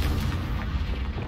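In the Hogwarts Legacy video game, a Confringo spell blast lands as a loud, booming burst with a deep rumbling tail, close and filling the whole short moment, with no speech over it.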